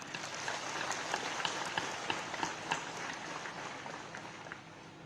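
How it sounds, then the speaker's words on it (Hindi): Crowd at a Tezu airport terminal inauguration in Arunachal Pradesh breaking into sustained applause, a dense roar of clapping with scattered louder claps, tapering slightly near the end. "आज तालियों की गड़गड़ाहट से प्रधानमंत्री जी का हम लोग धन्यवाद ज्ञापन करें।"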